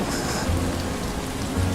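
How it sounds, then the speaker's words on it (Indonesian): Heavy rain pours down outside during an Indonesian church Christmas play, a steady dense hiss with low rumbling beneath and no one speaking. "hujan lagi, deras sekali"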